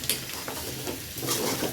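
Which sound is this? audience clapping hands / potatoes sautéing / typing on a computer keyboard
potatoes sautéing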